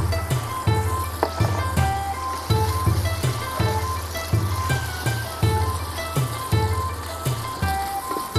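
Finely minced garlic and chopped green chili sizzle sharply in a hot pan for Chinese-style gravy noodles, with crackling bursts and regular scraping stir strokes repeating about every half second.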